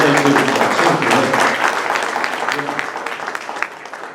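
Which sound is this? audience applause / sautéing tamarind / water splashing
audience applause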